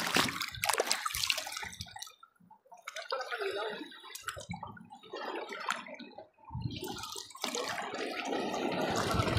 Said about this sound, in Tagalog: Mag-aabang tayo ng mga malalaking alon.